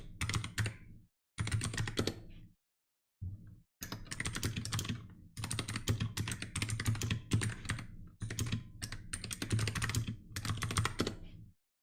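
Bursts of rapid typing on a computer keyboard, close and fairly loud, coming in several runs of clattering keystrokes separated by short silent pauses.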